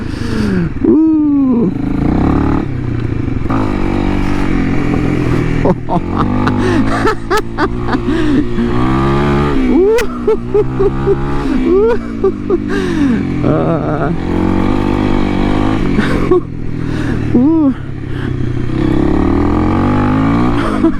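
A Honda CRF 300L motorcycle with a 550Performance ECU tune rides over rough ground, its engine revving up and down under the rider's excited voice, loud and close throughout.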